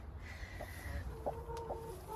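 A broody, puffed-up hen clucks softly in low, scattered notes at close range, with faint background noise and no talk.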